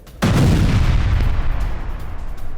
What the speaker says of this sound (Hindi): ये देखिए कितना बड़ा धमाका था